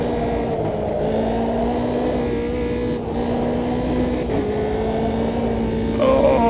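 Race car engine in the video game Automobilista 2, a steady mid-pitched drone with small throttle dips and lifts, moderately loud and unbroken.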